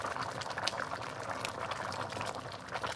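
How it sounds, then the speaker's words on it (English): A pot of chicken and pumpkin soup bubbles at a steady rolling boil, close and continuous with soft popping and gurgling, no talk. "I'm just trying to get this to boiling real good."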